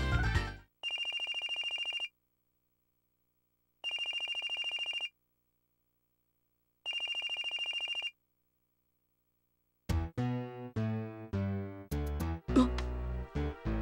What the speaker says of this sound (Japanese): 携帯電話か。